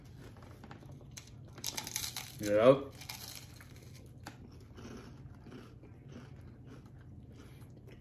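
Someone bites into fried catfish close to the mic, giving a brief crisp crunch around the middle, with quiet chewing and faint room noise after and a short spoken word.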